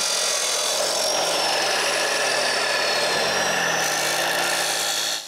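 Metal stock for dock supports is cut with a power tool, giving a continuous loud, high grinding whine that holds steady for several seconds before stopping abruptly at the end.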